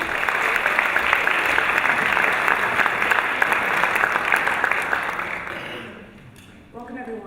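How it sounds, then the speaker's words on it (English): A conference audience applauds a speaker being welcomed on stage, with dense, sustained clapping for about six seconds that fades out, followed by a few scattered claps at the end. "Let's give her a round of applause."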